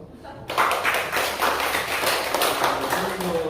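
Audience applause at a gallery exhibition opening for a solo show in Seoul, a dense burst of many hands clapping that starts abruptly and holds steady in a mid-sized room.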